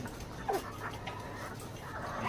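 Hens about to lay eggs, clucking softly at close range in a farm setting ahead of debeaking, a few low, brief clucks over a steady background hum.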